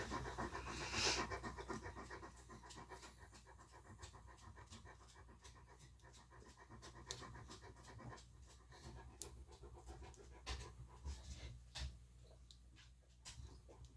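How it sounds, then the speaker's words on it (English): Dog panting heavily nearby, a fast continuous rhythm of quick breaths that stays faint and close throughout, with occasional small scratching or ticking sounds. "You're breathing heavy, bud."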